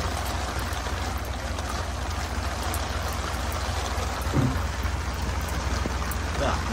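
Steady broadband hiss of heavy rain falling around the listener at the back of a narrowboat, continuous and close, with faint splashes and occasional small knocks.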